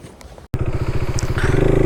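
A motorcycle on the road up to Shinkula pass in Zanskar thumps along close by with a steady, rapid engine pulse that grows slightly louder after a brief gap at the start.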